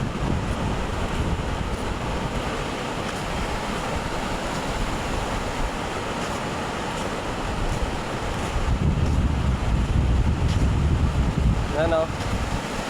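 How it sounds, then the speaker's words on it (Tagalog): Sea waves wash onto the shore beside a seaside road in a steady rushing surf mixed with wind buffeting the microphone, swelling louder near the end, while someone speaks over it. "Ang ganda ng mga alon."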